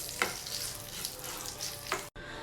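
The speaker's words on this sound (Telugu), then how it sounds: "నెక్స్ట్ ఇవన్నీ కూడా బాగా కలిసేటట్టు ఫ్రై చేసుకోవాలండి." Red chilli and ajwain sizzle in hot oil in a pan as a tempering for mango and tomato pachadi: a steady, close frying hiss with occasional stirring scrapes, cut off abruptly near the end.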